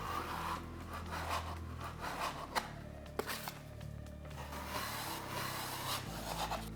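A knife scrapes and rubs joint compound off the edges of drywall tape in repeated strokes, quiet and close, with a couple of sharp clicks from the blade along the way.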